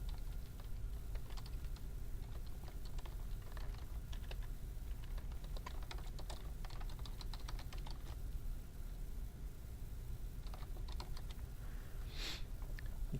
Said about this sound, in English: You just click on the picture and start typing.